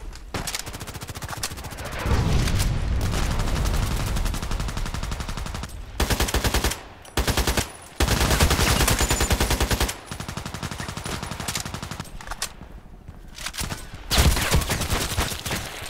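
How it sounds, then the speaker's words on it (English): Sustained gunfire from a sniper video game hammers almost without a break, in long rapid bursts with several short gaps, loud and close throughout. "The reload blocked my shooting."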